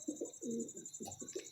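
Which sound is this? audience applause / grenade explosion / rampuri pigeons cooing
rampuri pigeons cooing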